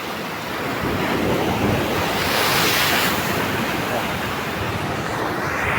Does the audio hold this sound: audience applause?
no